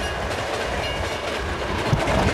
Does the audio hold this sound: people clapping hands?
no